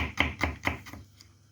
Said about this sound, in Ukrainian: Тоненько шаткуємо білокачанну капусту, молодий редис дольками.